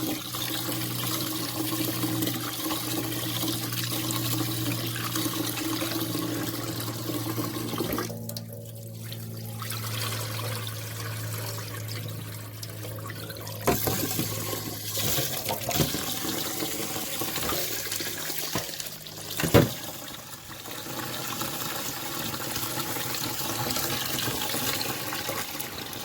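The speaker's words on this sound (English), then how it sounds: "Make sure you wash your rice before you cook" A kitchen tap runs steadily while rice is washed for Jamaican pumpkin rice, a constant close stream of water. Brief splashes and knocks of grains and pot stir midway through.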